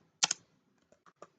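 Computer keyboard keys struck while typing text into a table in Microsoft Word: a quick pair of loud clicks, then three softer, spaced taps, close and alone in a quiet room.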